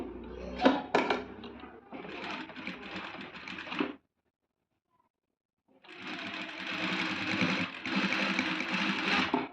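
A sewing machine stitching invisible thread piping runs in a fast, steady whir for several seconds, stops briefly into silence, then starts again and keeps running close and clear.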